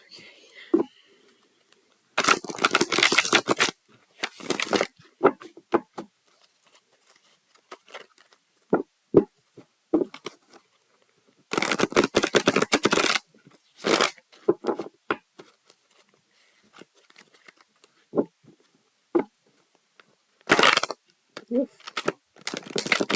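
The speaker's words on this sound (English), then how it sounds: "so I can shuffle these cards here and you can see what I'm doing" A deck of cards shuffled by hand during a card reading, heard as several short riffling bursts separated by quiet gaps and light handling clicks, close and with no talk.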